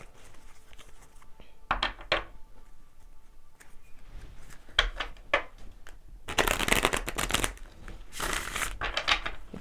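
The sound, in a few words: shuffling tarot cards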